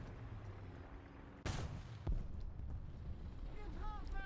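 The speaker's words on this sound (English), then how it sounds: "He's shooting at this SU." Tank cannon fire in War Thunder, one sharp loud blast followed by a second heavy impact shortly after, set against a steady low engine rumble with faint game noise.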